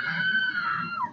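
A woman's loud, sustained, wavering scream rings out from the game Assassin's Creed Syndicate, lasting about a second with no other sound around it.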